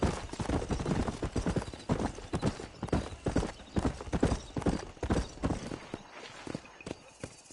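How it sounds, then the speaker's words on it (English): Hooves of a galloping horse in the Red Dead Redemption western video game: a loud, continuous rapid clip-clop rhythm, close by and steady, with little talk over it. "All right, I'll show you how we ride around these parts. Come on. Giddy up!"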